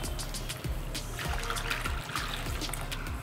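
Pre-boiled milk pours and trickles into a pot of cooking payasam with phool makhana, a steady liquid stream heard close up with faint kitchen clatter and no voices.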